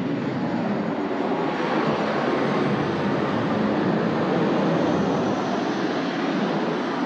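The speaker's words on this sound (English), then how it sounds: "look at the plane!" An airplane passes overhead at a beach on Kauai, Hawaii. It makes a loud, continuous broadband rushing roar that holds steady for several seconds, with no voices.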